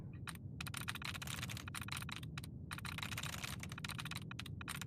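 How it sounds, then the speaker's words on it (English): Rapid keyboard typing on a terminal hacking screen in Fallout 4, crisp close-up clicks in dense bursts with short pauses, played alone over a low background hum. "That is basically what my keyboard sounds like with less bass."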